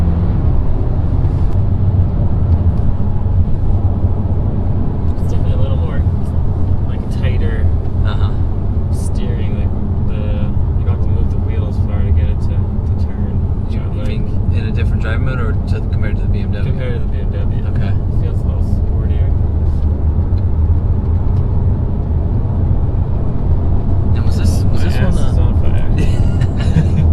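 Steady low road rumble from an Audi A4 driving along a road, continuous and close throughout, with people talking over it inside the cabin.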